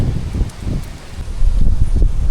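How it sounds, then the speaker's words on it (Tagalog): Wind gusts strongly, rustling nearby leaves in loud, uneven surges that swell and fade. "At biglang lumalakas ang hangin."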